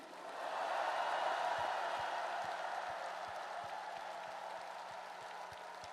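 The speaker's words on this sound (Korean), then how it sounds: "우리 두 분 후보님께 뜨거운 격려의 박수를 부탁드립니다" Applause for two candidates at a Democratic Party convention, a broad wash of clapping from a large crowd that swells in the first second and holds steady to the end.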